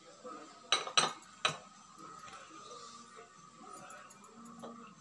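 Chicken curry cooked with tomato is scooped into a serving bowl, with three sharp metal-on-dish clinks close by early on, then quieter scraping and light taps.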